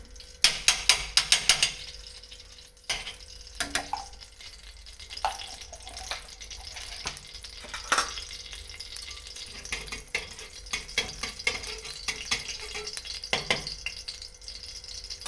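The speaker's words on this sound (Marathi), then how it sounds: "थोडंसं तूप कढईमध्ये टाकायचं" Semolina roasts in ghee in a kadhai for sheera, with irregular scraping clicks of stirring against the metal pan over a soft, continuous sizzle, close and fairly clear throughout.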